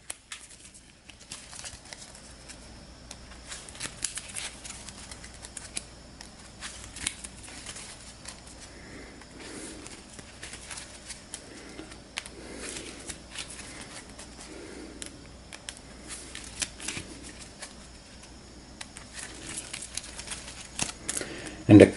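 Arkham Horror game cards are shuffled by hand at a tabletop, giving repeated soft riffling and slapping bursts in a steady rhythm, close and fairly quiet, with no talking.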